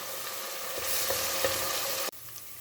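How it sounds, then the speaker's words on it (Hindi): Chopped onions sizzle steadily in about half a cup of hot oil while frying toward golden, a close, continuous crackle with faint stirring scrapes before it cuts off abruptly. "प्याज हमारा तकरीबन गोल्डन हो गया है।"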